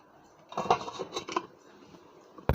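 A lid rattles and clatters onto a pot of red chicken curry for about a second, followed by quiet and then one sharp knock.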